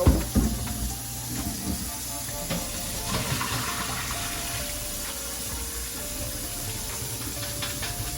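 Water pours out of a cooking pot as it is drained while making a seafood boil, a steady hissing splash with a steam-like rush that carries on for several seconds at moderate, close level.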